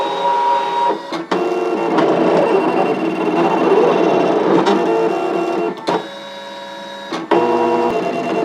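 A Brother ScanNCut machine cuts out a Halloween trick-or-treat bag design with a steady mechanical whirring and buzzing, broken by sharp clicks and brief shifts in pitch as the blade carriage moves.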